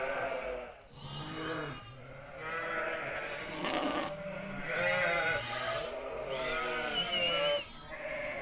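Newborn lambs and their ewes in a pen bleat loudly and almost without pause, calls overlapping and shifting in pitch at close range, with faint talk in the background.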